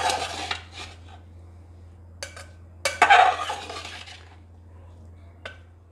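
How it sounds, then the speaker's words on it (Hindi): Chicken keema samosa filling gently mixed with a spoon in a bowl, a few soft clinks and scrapes of utensil against dish, with quiet gaps between the brief stirring sounds. "ये डाल देने के बाद में हम इसे हल्के हाथों से मिक्स कर लेंगे"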